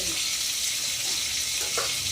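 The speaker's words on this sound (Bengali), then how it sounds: "আর এটা খয়রা মাছটাই দেখো ভাজা হচ্ছে।" Khoira fish frying in a pan for a home meal: a steady, dense sizzle of hot oil fills the whole moment, close and fairly loud, with no pause.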